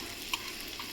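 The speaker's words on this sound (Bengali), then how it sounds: "পনিরটা ভেজে নিচ্ছে" Paneer fries in ghee on a griddle, a soft, even sizzle close by with a couple of faint ticks and pops, no voices.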